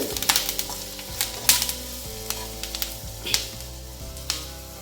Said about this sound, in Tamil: நல்ல ஃப்ளேவராக இருக்கும் கருவேப்பிலை நல்லா பொறிஞ்சிருது